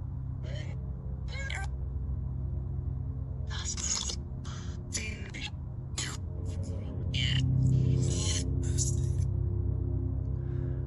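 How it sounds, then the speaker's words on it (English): An airplane or helicopter passes over the historic Woodlawn Cemetery as a steady, low, loud drone throughout, swelling toward the end, while a person talks over it. "there's a plane or something flying right now"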